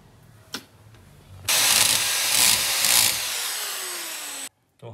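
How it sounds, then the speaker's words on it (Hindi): A power drill bores into the mortar between red bricks, a loud whining grind lasting about three seconds, then cutting off abruptly, with a single sharp knock just before. "तो ये मैंने मसाले के अंदर इसको ड्रिल किया।"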